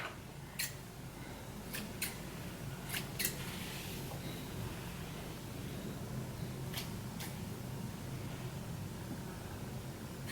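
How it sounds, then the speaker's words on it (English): Several crisp scissor snips trimming braided hair, sparse and irregular, close up against a quiet hiss. "Just neaten it up a little bit with some scissors."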